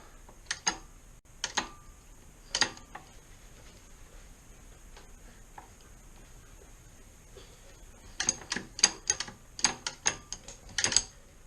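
Ratchet clicking while tightening bolts on a brake caliper, in short bursts of rapid clicks with pauses between, a few groups early and a denser run near the end, close and moderately loud with no talking.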